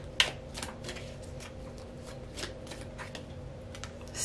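Tarot cards are shuffled quietly in a calm indoor setting, with a series of soft, rapid riffles and light taps spread across a few seconds and little else heard.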